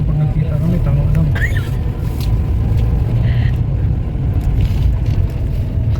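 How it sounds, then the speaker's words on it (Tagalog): Many motorcycles ride along a road near Daet, Philippines, heading toward Manila, giving a steady, loud engine rumble mixed with wind buffeting on the microphone. "Yung daming motor, oh."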